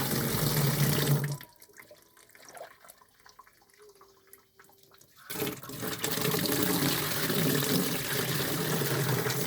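Water poured into rabbit compost tea runs steadily with a broad splashing rush, breaks off into a quieter stretch with faint trickles, then pours again strongly to the end.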